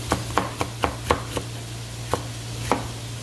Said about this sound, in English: we're just going to chop up some green peppers